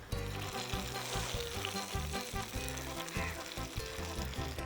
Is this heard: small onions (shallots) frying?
yes